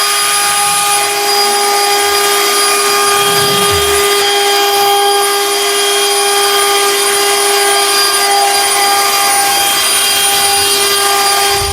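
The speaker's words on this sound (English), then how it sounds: "Just want to see if it does a good job of blowing dry the vehicle." A Bullseye blower machine drying water off a car runs in a continuous loud high whine with steady tonal hum, unbroken throughout and close by.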